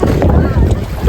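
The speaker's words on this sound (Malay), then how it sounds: "Wow, angin." Strong wind buffeting an outdoor microphone on a short trip in Perlis, a loud continuous low rumble with gusty fluctuations throughout.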